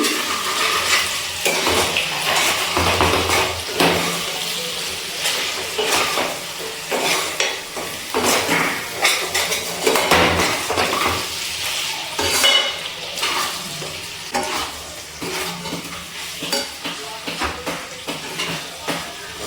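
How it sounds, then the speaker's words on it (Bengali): Chicken with spices being stirred and fried in a kadai for a dhaba-style curry: a steady close sizzle broken by repeated scraping and clattering of the spoon against the metal pan. "মশলাটা দিয়ে আরও কিছুক্ষণ একটুখানি নাড়াচাড়া করে মাংসটা রান্না করে নিয়েছি।"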